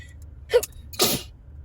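A single sharp sneeze, with a short catch of breath just before it, close and fairly loud in an otherwise quiet room.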